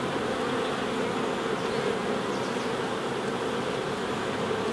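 Honeybees crowd the entrance of a busy, healthy hive during an October check, filling the air with a dense, steady buzzing hum that never lets up, close and fairly loud, with no voices.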